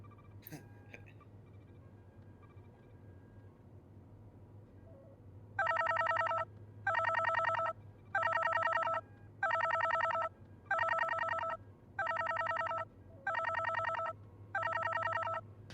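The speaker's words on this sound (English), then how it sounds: "My God, someone answer the phone." A telephone rings in eight regular bursts of electronic bell trills, each about a second long with short gaps between, loud and clear over a quiet background hum after a faint sound at the start.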